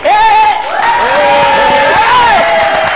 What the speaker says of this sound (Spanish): ¡Oh, aplauso para mí! Si no aplauden, no, no salgo.